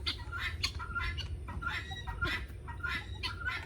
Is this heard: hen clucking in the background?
yes